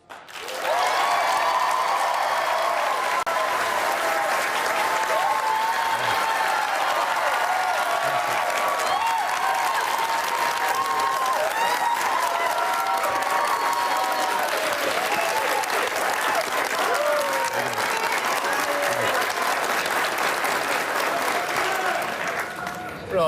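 A studio audience applauds and cheers for a senator at a town-hall broadcast, with sustained loud clapping and whooping voices that go on for over twenty seconds without letting up.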